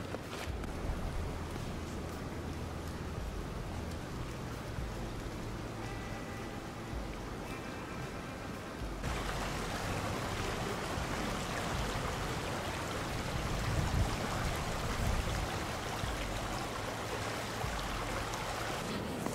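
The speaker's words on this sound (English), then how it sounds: "I actually got a nice good size creek down over there." A good-sized creek flows below the Badger State Trail, making a soft, continuous rushing sound that grows slightly fuller partway through. The water is heard from a distance, faint and steady, with no voices over it.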